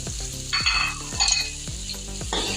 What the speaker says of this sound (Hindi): मैंने इसके अंदर ये सब्जियां डालनी है, इसको मैंने फ्राई करनी है।